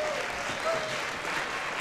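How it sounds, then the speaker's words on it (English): An audience at a school winter orchestra concert claps in a brief, dense burst of applause, moderately quiet and steady with no one speaking over it. "would you please give a big round of applause to our booster president, Miss Elena Gross."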